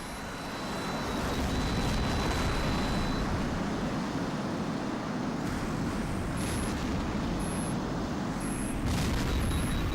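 Missile launch and explosion in the jet combat game Tom Clancy's H.A.W.X, a loud sustained roar and rumble with several short beeping lock-on tones near the end.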